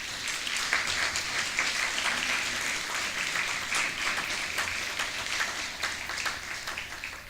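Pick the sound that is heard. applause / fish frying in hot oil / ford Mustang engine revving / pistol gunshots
applause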